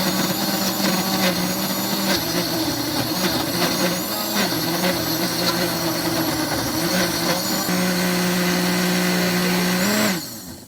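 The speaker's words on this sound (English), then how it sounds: "we are ready to blend" A kitchen blender whirs loud and continuous while blending guacamole, a dense steady motor roar with slight pitch shifts as the mix churns, cutting off abruptly near the end.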